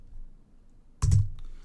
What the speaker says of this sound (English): I'm just going to type in electricians